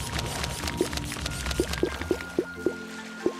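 Water being scooped up block by block in the survival game Stellar Overload, a series of short liquid plops and pours at irregular intervals over a soft ambient background.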